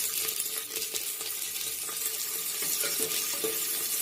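A constant sizzling hiss of onions and garlic frying in hot oil, close up and fairly quiet, with light stirring scrapes now and then.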